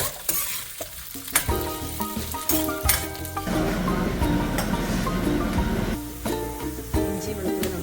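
Long-sliced garlic, with ginger, sizzles in hot oil in a pan for a lime pickle, steady frying hiss under scraping stirs and the clink of a spoon against the pan, close and without speech.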